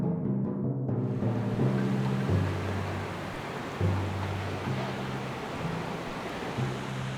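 Ocean surf at a popular surf break, a steady broadband wash of breaking waves with a low rumble of rolling water throughout, fairly loud and continuous with surges as sets come in.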